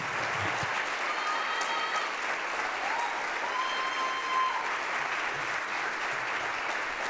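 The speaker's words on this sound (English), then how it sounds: "please let us welcome her to the stage with a round of applause." Audience applause welcoming a singer to the stage, steady sustained clapping from a crowd filling the whole stretch, loud and even with no voices over it.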